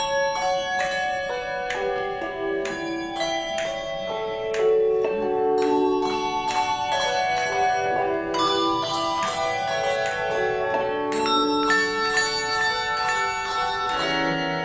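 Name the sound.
handbells and tower bell playing Greensleeves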